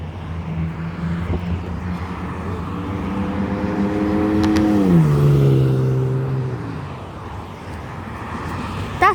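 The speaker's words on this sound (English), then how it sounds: "Pickup truck trying to race." At US traffic lights a pickup truck accelerates to race, its engine note rising through a gear, swelling nearby then receding, over background traffic.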